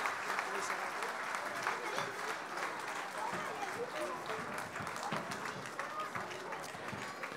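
A crowd at an opening ceremony applauds the Italian team, sustained clapping with distinct individual claps, heard under a voice speaking.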